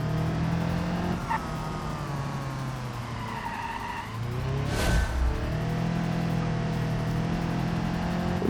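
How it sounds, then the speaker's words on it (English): A car with an open rear differential spins its tires in a BeamNG racing career, a steady engine drone with squealing wheelspin and a brief sharp burst midway, loud and close with no talk. "That open rear differential just spinning up tires there."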